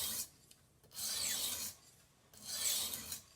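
A cheap Target knife drawn across the stone of a TSPROF sharpener, three rhythmic rasping strokes separated by short pauses, close and fairly quiet, with no voices.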